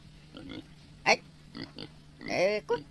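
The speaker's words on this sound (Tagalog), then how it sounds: "Baboy ti in regalo na." Pig oinking in an Ilocano-language radio drama: a few short grunting oinks, the loudest near the end, sounding close and mixed among spoken dialogue.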